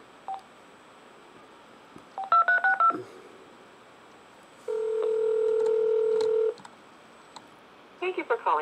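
Touch-tone telephone keypad dialing a number: short bursts of paired beeps in quick succession, then a longer steady tone, then a few more rapid key tones, heard close and clear.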